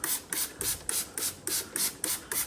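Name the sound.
spray bottle spraying vinegar and water onto wallpaper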